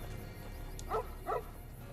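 Dog companion in the video game Fallout New Vegas gives two short barks, spaced a moment apart, over a low steady background hum.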